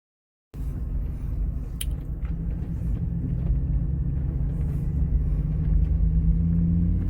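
A car drives along a remote Alaska road a few miles from the highway, its steady low engine and road rumble loud and continuous from start to finish, with no one talking.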